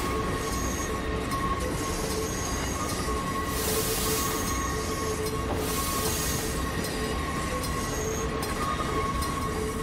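Train carriages rolling along rails in a train simulator game set under trolley wires in California, a steady loud rumble with wheel squeal and faint clacking throughout.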